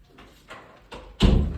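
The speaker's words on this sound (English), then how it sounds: "let me close the door" An indoor door pushed shut: a few soft knocks and movements, then one firm, close thud as it closes.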